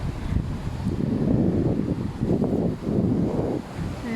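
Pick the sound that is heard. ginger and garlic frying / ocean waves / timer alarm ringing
ocean waves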